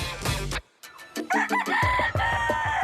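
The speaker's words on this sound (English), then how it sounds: "The rooster and Kieran are both up bright and early" A rooster crows loudly and close by at an early morning hour, with strained, broken calls and a short pause between the crowing phrases.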